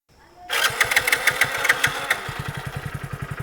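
A Hero HF Deluxe motorcycle engine is started and settles into idle, giving a rapid, even single-cylinder putter of close, moderately loud pulses after a brief quiet lead-in.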